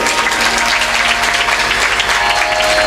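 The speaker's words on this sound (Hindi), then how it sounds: "एक बार ताली तो बजा दो।" Dense applause from an audience at a Hindu religious discourse, a steady loud wash of many hands clapping close by for the whole stretch.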